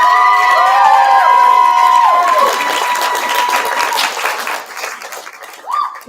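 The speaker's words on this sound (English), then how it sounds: "give my co-author a round of applause for his very first" Audience round of applause at a live FantaSci 2024 convention panel, loud clapping and cheering that swells early and then thins out, with shrill whistles and a few shouts at the start.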